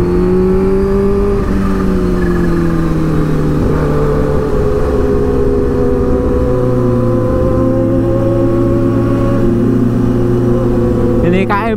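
A Kawasaki H2 four-cylinder motorcycle engine revs hard and loud during a night ride, its pitch climbing then settling into a steady high drone with a drop partway through.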